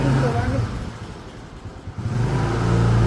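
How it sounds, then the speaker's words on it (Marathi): A car being driven with a mid-pitched engine hum that rises and dips steadily, close and fairly loud, with a voice talking over it at times. "बागल सर गाडी चालवतात, ते पहिले प्रोफेशनल ड्रायव्हर आहेत."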